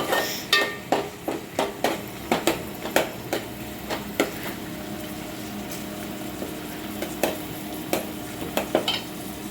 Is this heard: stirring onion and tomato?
yes